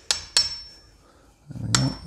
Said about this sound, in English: Give them all a little tap.